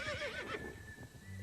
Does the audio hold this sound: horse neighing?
yes